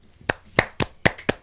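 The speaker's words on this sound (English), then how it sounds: "Can I get a clap?" Five sharp hand claps, spaced unevenly and fairly close, ring out in a quiet podcast studio with no talking.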